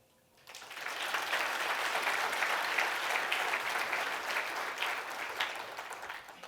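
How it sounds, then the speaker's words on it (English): An audience at a tech conference awards ceremony applauds award recipients, a sudden burst of many hands clapping that stays full and sustained for several seconds before easing slightly. "one final round of applause for all our distinguished contributor awardees"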